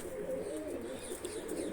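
Flying pigeons in a breeding loft coo in low, throaty, rolling phrases close by, repeating steadily without pause against a quiet background.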